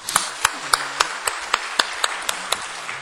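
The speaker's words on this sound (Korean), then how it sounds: "우리 박수로 환영해 드립시다." A church congregation claps in unison to welcome newcomers at a service: a slow, regular beat of sharp, loud claps, about three per second, repeating evenly with quiet room noise between them.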